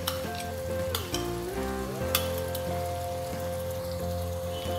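Onion paste sizzling and frying steadily in a pan, a continuous crackle with faint music playing underneath.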